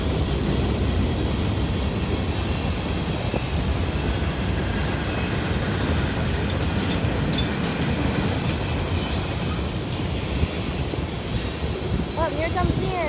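A CSX coal and mixed freight train with two mid-train distributed power units rolls steadily through Folkston, Georgia, a loud continuous rumble of wheels and cars with faint clicking, passing close and alone for the whole stretch.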